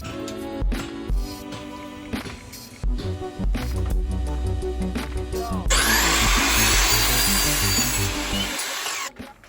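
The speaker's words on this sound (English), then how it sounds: "when we go in the miter saw, it's much easier to cut our pieces of wood" Miter saw cutting pieces of wood for an accent wall, with rattling and tool noise early on, then a loud sustained whining cut lasting several seconds before spinning down.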